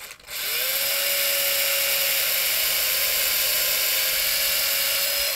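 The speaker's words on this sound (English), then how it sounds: "starting them with that drill bit mounted to my piece of dowel rod really helps this" A small drill bit mounted on a piece of dowel rod spins up with a brief low rev and then holds a steady, high whirring whine while starting holes for Kluson tuners on a guitar headstock, with no talking.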